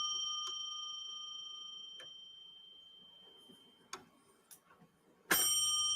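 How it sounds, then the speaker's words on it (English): An automaton clown's intermission bell, worked by a music cylinder and comb, rings three times with fading decays before a louder burst of chiming at the end, with quiet clicks between. "The intermission bell interrupts his slumber, not once, but 3 times."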